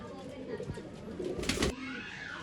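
A pigeon at a Bangalore pigeon sale coos softly, with faint background chatter and a brief louder rustle or flap midway through the short stretch.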